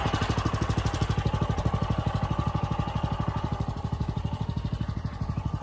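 The small engine of a garden water pump warms up, running at a steady idle with a fast, even chugging pulse that stays loud and close, with no talk over it.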